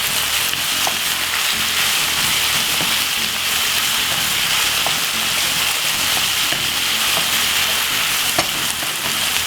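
Food frying with smoked paprika in a pan gives a loud, steady, close sizzle with occasional faint stirring taps, and no one speaks.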